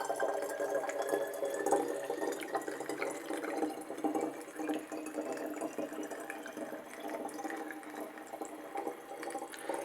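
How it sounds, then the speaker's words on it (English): Water running into a container while it is filled, a steady splashing trickle with small drips and gurgles, fairly close and with no speech. "fill up the rest of the container with water"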